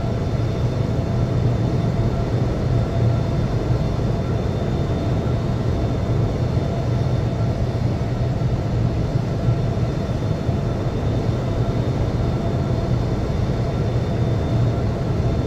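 Steady, loud jet engine drone during pushback in the Infinite Flight simulator, a continuous low rumble with a faint high whine, unbroken and unchanging throughout with no talk.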